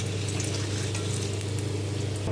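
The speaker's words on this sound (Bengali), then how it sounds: "তো এই আলুগুলো ভাজা হয়ে গেছে, তুলে নেব" Cut potatoes frying red-brown in hot oil for a chicken kosha sizzle in a steady, even hiss that runs unbroken for the whole stretch, with no talking over it.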